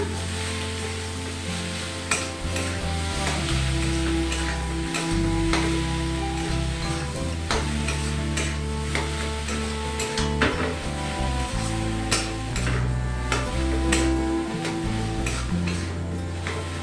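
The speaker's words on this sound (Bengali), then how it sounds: "এবার নেড়ে চেড়ে নামিয়ে দেবো" Samosa filling sizzling in a hot pan while being stirred, with steady frying crackle and repeated scraping and knocking of the spoon against the pan, close and clear with no talking.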